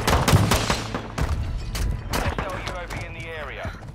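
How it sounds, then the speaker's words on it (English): Gunfire in a video game: rapid, loud volleys of shots and sharp bangs crowd together with hardly a pause, while a few tonal in-game effects sweep through near the end. "I'm shooting the guy right there."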